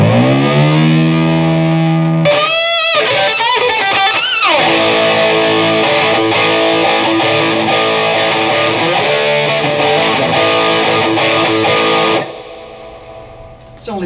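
A distorted electric guitar rings out through a Hughes Kettner Grand Meister 36 tube amp turned up louder, sustained chords and quick string scrapes filling the room before stopping abruptly near the end.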